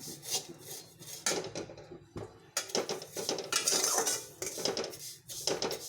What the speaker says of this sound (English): Fry it nicely till then golden brown